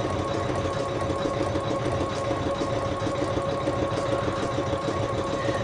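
Embroidery machine laying down a blanket stitch on a bedtime quilt design, giving a steady, even mechanical whir and hum that runs unbroken at a constant level throughout.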